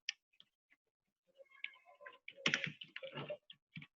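Computer keyboard typing while building a component and deployment diagram, with quick uneven bursts of key clicks, sparse at first and then a denser, louder flurry of keystrokes, close and without speech.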